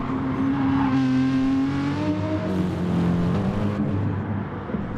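A race car engine in a racing video game at the Nürburgring GP circuit drones steadily and loudly, its pitch sliding up and down as it shifts through gears, with a faint whir beneath.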